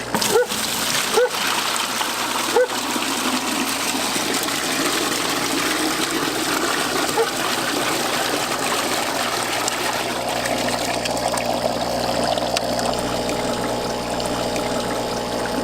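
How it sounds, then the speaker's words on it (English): Water poured onto a compost pile being built for garden soil, a continuous splashing, gushing pour with a few sharp spatters early on, loud and close throughout. "So about every 2 feet or so, you want to put some water."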